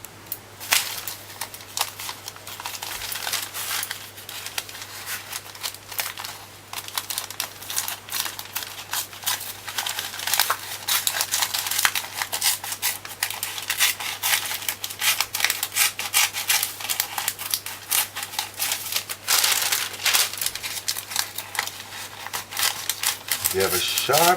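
Scissors cutting paper in a long run of crisp, rapid snips and rustling close by, continuing throughout, with a voice speaking intermittently.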